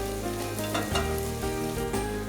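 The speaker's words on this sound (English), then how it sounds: "Stir the ginger and garlic well and bring it to a nice golden color." Garlic and ginger fry in hot oil while being stirred, a steady close sizzle with light scraping accents and no voices.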